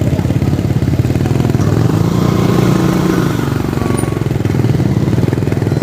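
A big motorcycle rumbles past on a road near a toll plaza, its engine loud and steady throughout with a gritty, throbbing low end.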